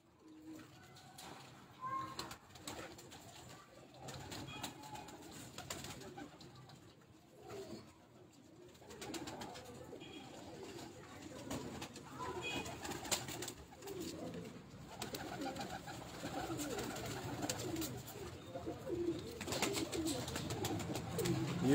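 Pigeons coo on a rooftop in soft, repeated throaty calls over a faint outdoor background, growing a little louder toward the end with no talk.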